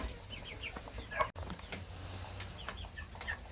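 Chickens clucking softly while they eat feed, several birds making short scattered calls over a low steady background hum, with one sharp knock partway through.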